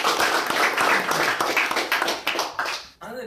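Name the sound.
audience applause for club ex-officers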